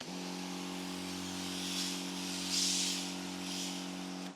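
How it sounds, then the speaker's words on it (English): A steady pressurized hiss from a Karcher OC3 Plus rinseless pressure sprayer sprays continuously over a low engine hum, swelling slightly in bursts before cutting off. "You can get some pop out of that pressure spray."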